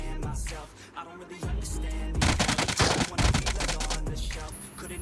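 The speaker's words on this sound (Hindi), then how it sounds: "अब पीछे से कुछ फायरिंग आ रही थी" Gunfire in PUBG Mobile rattles out in rapid automatic bursts, loud and close, with a short quieter gap between volleys and no speech.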